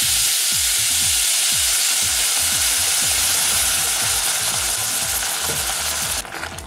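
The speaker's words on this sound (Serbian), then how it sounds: "ima malo i suve šljive, to ćemo sada dinstamo" Dried prunes stew in a hot pan, giving a loud, constant sizzle with a regular clicking rhythm running underneath until it drops away at the very end.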